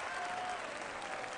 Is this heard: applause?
yes